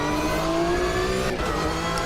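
A race car in a racing video game brakes too hard and locks up, heard as a steady loud engine drone with a falling pitch and faint tire noise, with no voice over it.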